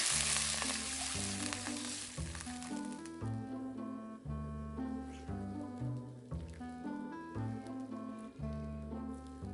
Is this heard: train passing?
no